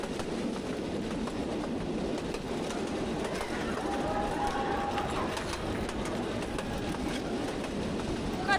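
A crowded metro train rumbles along with a steady, broad roar. A faint metallic squeal rises briefly midway, and no talk is heard over the noise.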